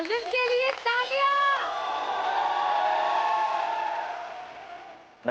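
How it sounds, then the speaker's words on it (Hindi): A crowd cheers and whoops at a hip hop dance competition show, with high excited voices at first, then a sustained roar of cheering that slowly fades. "अरविंद के लिए तालियां."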